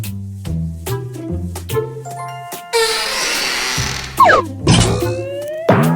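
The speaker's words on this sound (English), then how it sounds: "Can you hit the bell with the large hammer?" In the Cat in the Hat arcade video game, a large hammer strikes a bell, heard among bright synthetic musical tones and boings, with a rising ring and zips near the end.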